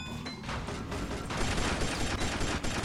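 Missile fire from a car-mounted weapon in the Burnin' Rubber 5 video game, heard as a rapid, loud, continuous volley of explosive shots with no pauses for nearly three seconds.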